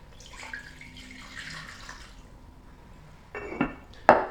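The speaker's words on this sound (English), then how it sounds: "you need to add fresh water to the cooked herbs again." Fresh water poured onto already cooked Chinese medicinal herbs in a pot for a second decoction: a soft hiss, then a short splashing pour with a couple of clinks from the vessel near the end, close and with no voices.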